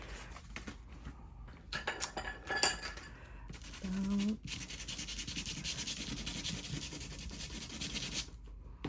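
Cards for a card journal are roughened by scraping and rubbing their surfaces, first in short scratchy bursts and then in a long continuous sanding rasp, close up with no talking.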